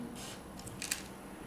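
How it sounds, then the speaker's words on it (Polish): The shutter release is pressed on an Olympus E-420 digital SLR camera, producing a single faint, close click in near silence. "spust migawki"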